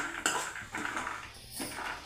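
Spices frying in a pan for a sprouts curry, heard as scraping and clinking of a spatula against the pan in a few separate bursts, close and moderately loud with no talking.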